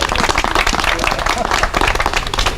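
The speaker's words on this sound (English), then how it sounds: "Can we give him another round of applause?" Loud, dense audience applause with many hands clapping rapidly and continuously, close and energetic throughout.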